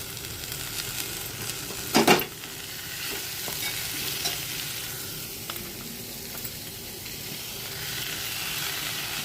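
Washed punarnava leaves dropped into a pan of frying onions, giving a brief loud hiss near the start that settles into a steady, moderate sizzle with faint stirring.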